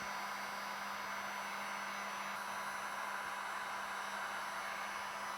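A heat gun blows hot air onto an acrylic sheet for bending, giving a loud, unbroken hiss with a low steady motor hum beneath and nothing else over it.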